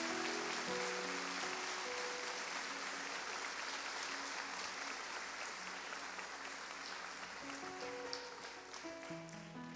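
A church congregation applauds warmly and steadily for about ten seconds, a dense continuous wash of clapping heard somewhat distantly, with sustained keyboard or organ tones underneath.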